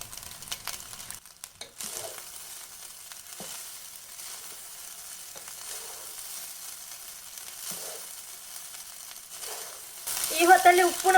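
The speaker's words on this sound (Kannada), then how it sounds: "ಇನ್ನು ಫ್ರೈ ಮಾಡಿಟ್ಟಂತಹ ಎಗ್ಗನ್ನು ಹಾಕ್ತಾ ಇದ್ದೇನೆ." Fried egg added to a hot pan of egg fried rice and stir-fried, a soft steady sizzle with occasional spatula scrapes and a louder stirring burst at the end.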